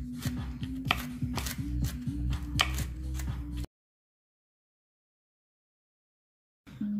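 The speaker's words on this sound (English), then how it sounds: "I'm just gonna keep on chopping." A knife chops nuts on a cutting board in a home kitchen, with rapid steady knocks close up over a low hum, then a few seconds of silence before the chopping resumes briefly.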